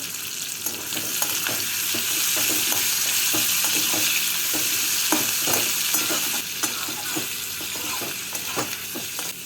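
Sliced onion, ginger, four garlic cloves and cashews fry in a pan, sizzling steadily up close with frequent sharp scrapes and taps of a stirring spoon, and no speech.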